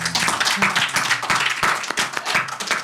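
A crowd claps in brisk, sustained applause for a few seconds, close and fairly loud.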